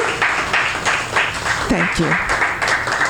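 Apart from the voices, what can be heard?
audience clapping at a variety show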